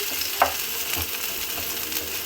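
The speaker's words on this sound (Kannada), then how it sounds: "ಸ್ವಲ್ಪ ಫ್ರೈ ಮಾಡ್ಕೊಳ್ಳೋಣ." Chilli and onion sizzle in hot oil in a pan, giving a steady broad hiss with soft stirring scrapes underneath, close and continuous, with no voices.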